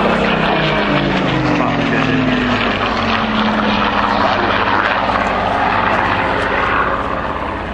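A Spitfire makes a rolling departure at an airshow, its piston engine a loud, steady drone with a throbbing low tone that slowly falls in pitch, then tails off slightly toward the end.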